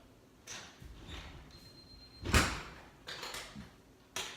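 A door on a DSC home security system is opened and closed for a sensor test. Several soft knocks and rattles lead to one sharper bang midway, followed by quieter handling clicks and a final thud.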